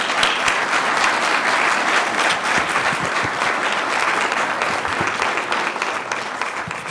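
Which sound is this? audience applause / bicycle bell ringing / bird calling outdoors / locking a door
audience applause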